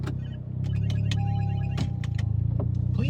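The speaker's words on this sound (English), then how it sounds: "The car is pretty loud." A car runs steadily in a low, constant hum, heard from inside the vehicle late at night, with a few faint clicks and thumps over the engine drone.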